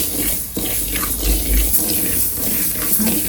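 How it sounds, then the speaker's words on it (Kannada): Mustard seeds splutter in a hot pan with a dense, continuous crackling sizzle heard up close, with no voices over it. "ಚಟಪಟ ಅಂತ ಇದೆ ಈಗ."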